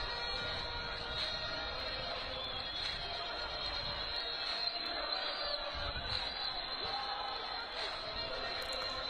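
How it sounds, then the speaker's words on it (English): Home fans sing, chant and clap at a football stadium during a South African Premiership match between Chippa United and AmaZulu FC, a dense, steady crowd din that holds for the whole stretch without a break. "Home fans continue the singing and the chanting and the clapping of hands as well."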